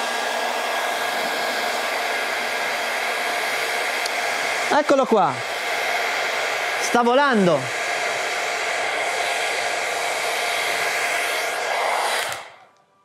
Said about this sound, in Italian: accenderò il phon proprio come il soffiatore che abbiamo visto e vediamo se la nostra pallina riesce veramente a volare